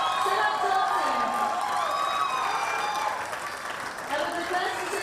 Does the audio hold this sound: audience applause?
yes